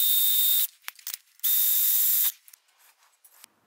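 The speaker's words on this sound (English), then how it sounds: "I'll drill those with a small drill." A small drill bores holes in a workpiece at a shop bench in two high-pitched whining bursts, each under a second long, separated by light scraping and handling noises.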